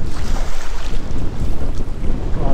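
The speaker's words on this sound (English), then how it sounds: "A lot of wind and waves." Strong wind buffets the microphone over steady wave noise on a fishing boat at sea, a loud, continuous roar with no talking.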